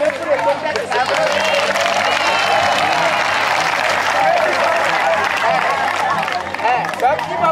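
A school robotics project showcase audience breaks into loud, sustained applause and cheering, dense clapping with crowd voices mixed in, steady throughout without pause.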